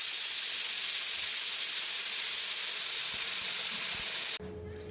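A pressure cooker on pulao releases steam in a loud, steady, close hiss that stops abruptly near the end, with no talking.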